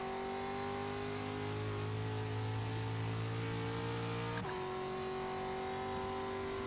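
A slightly underpowered Pro Lite racing truck in a racing video game holds a steady engine drone on a road course, with a brief pitch drop partway through, then carries on alone without talk.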